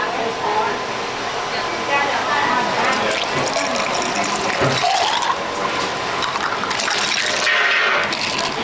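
Water pours into a cup of ice to fill about 18 fluid ounces at a food and wine festival, a steady loud splashing rush with clinks and rattling throughout, over busy background noise.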